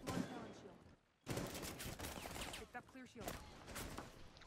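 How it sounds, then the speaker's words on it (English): Gunfire in Rainbow Six Siege, dense loud bursts of rapid shots with a short gap near one second, cracking repeatedly through the rest, with players talking underneath. "One shooting at Ricky"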